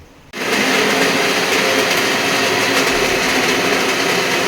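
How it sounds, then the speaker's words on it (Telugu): A mixer grinder starts abruptly and runs at full, loud, steady whine, grinding continuously with no talking. "ఇది చల్లగా అయిపోయింది కదా ఇది వేసుకుందాం రుబ్బాలని మిక్సీ"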